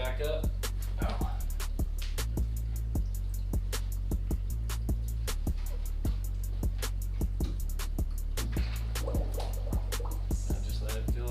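Water pours back into a home aquarium as it is refilled, giving a steady low gurgling flow. Sharp, regular drips and splashes land over it throughout, fairly close, with no one talking.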